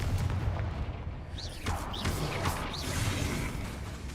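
Fire spell explosions in the Hogwarts Legacy video game, a dense run of whooshing blasts and booming impacts about every half second over constant loud battle noise.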